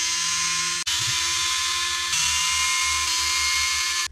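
A power screwdriver whirs continuously while backing screws out of a KST servo on a Rlaarlo AK-917 RC car, a steady high-pitched electric drone with a brief interruption near the start.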